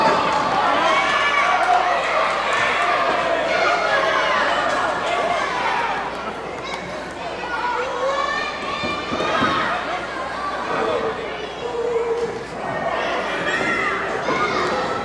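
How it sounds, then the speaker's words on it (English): A wrestling crowd cheers for Maddog McDowell, with a steady roar of shouting and chatter that swells and dips, thumps from the ring breaking through and announcer talk over the top. "Crowd barking solidly in support of Maddog McDowell."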